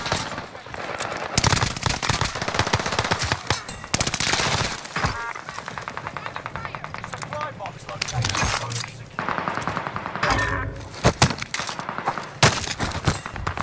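Rapid machine-gun bursts and single shots crackle through a video game firefight, dense and loud for the whole stretch with brief gaps, while a player talks over the shooting.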